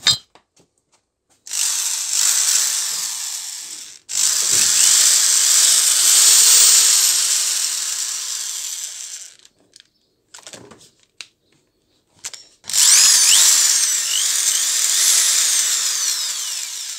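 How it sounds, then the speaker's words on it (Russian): A corded electric screwdriver with an intermittent switch fault runs in several loud, high whining bursts that spin up and stop abruptly, separated by silences and a few clicks. "Берем наш шурик и будем сейчас проверять, как он работает."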